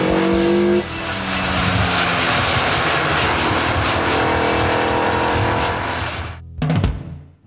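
A tuned old Showa-era Japanese car's engine runs loud and close in a dim forest, a sustained revving roar that fades out near the end with a brief final burst.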